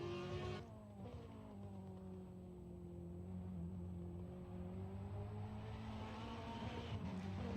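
Race car engine in an online sim racing game at WeatherTech Raceway Laguna Seca, a high revving whine that dips then climbs steadily under throttle, loud and continuous with harmonic tones rising through gears.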